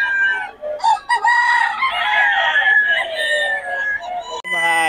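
Chickens and roosters at a market in Bocaue cluck and squawk close by in overlapping calls, with a rooster crow standing out near the end and a faint voice in the background.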